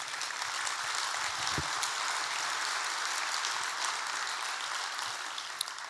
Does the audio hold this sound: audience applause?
yes